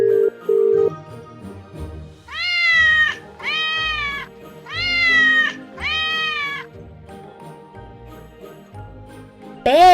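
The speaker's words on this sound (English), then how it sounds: "Cat." A cat meows loudly four times in a row, each call drawn out and closely spaced, with a fainter high tinkle at the start and another short cry cut off at the very end.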